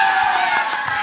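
A large crowd cheering and shouting at a film song launch event featuring actor Dhanush, a loud, brief burst of whoops and roaring voices that stays dense and sustained.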